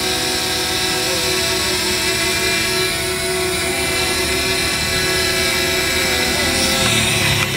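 A DJI Mavic Mini drone's propellers whir steadily after it is powered up, a loud, constant buzzing hum with high-pitched tones, heard close by with no speech.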